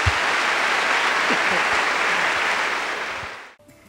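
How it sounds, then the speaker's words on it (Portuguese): Church congregation giving a big round of applause, dense continuous clapping that fades out at the end, with some voices mixed in. "ao Senhor Jesus, uma grande salva de palmas"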